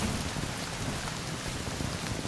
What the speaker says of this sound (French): Il pleut, il mouille, c'est la fête à la grenouille.